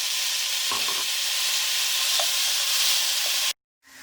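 Mutton with garlic, ginger and whole garam masala fries in a pan with a loud, steady sizzle and hiss, a few faint spoon touches showing through before it cuts off abruptly near the end.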